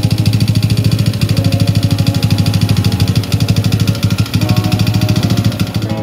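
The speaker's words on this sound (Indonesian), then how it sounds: "motor ini kena masalah dan suaranya kayak gini." A faulty Yamaha Aerox scooter engine bored up to 192cc runs steadily with a rough, rapid knocking rattle, loud and close, with no talking.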